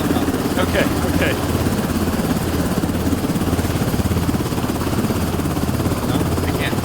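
A helicopter in the extraction shooter video game Beautiful Light drones loudly and continuously with a steady rotor throb, while players talk over it.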